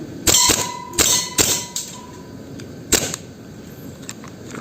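An SRC Babayaga 5.1 Hi-Capa airsoft pistol fires about four sharp, close cracks with uneven gaps, each a crisp snap with a brief metallic ring, against a quiet room.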